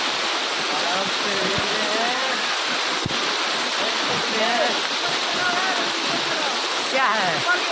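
A waterfall near the Kedarnath Shiva temple roars close and loud as a constant rushing wash of water, with excited voices talking over it throughout.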